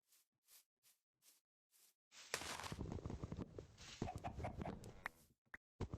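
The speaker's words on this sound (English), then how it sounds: "I hear a chicken." A chicken in Minecraft with the Botania mod gives a few soft, spaced clucks. A louder burst of rustling, clucking game noise follows for about three seconds, then stops abruptly.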